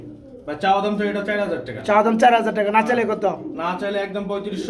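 Young pigeons in a pigeon farm coo in repeated rolling phrases, close and clear, with someone talking alongside them.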